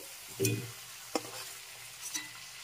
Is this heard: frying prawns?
yes